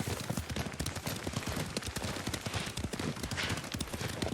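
Rapid, rhythmic hoofbeats of a galloping horse in Ghost of Tsushima, close and continuous, with a faint game soundtrack underneath.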